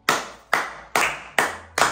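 Five sharp, close hand claps at a steady, even pace, each ringing briefly before the next.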